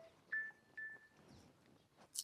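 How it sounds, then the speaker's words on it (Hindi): A phone rings with faint, short electronic beeps repeating a few times against a quiet room. "देखा केकर फोन आवता है"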